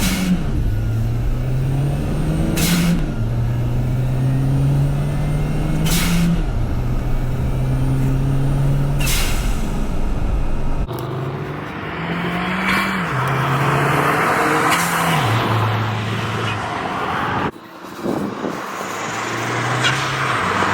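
A turbocharged Nissan Nismo Juke engine revs up and down repeatedly, loud and close, its intake roaring with rising and falling pitch sweeps, with sharp transient bursts between pulls.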